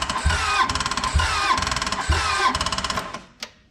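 An electric fuel pump primes fuel through a newly fitted engine, a close, fast mechanical ticking in three short bursts, each separated by a brief pause, before cutting off and falling silent.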